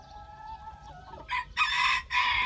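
A rooster crows loudly and close by in a farmyard coop, two strong bursts with a short gap between them, following quieter clucking and background fowl chatter.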